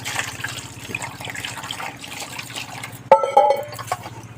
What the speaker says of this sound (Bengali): এই একটা জল দিয়ে ধুয়ে নেবো এগুলো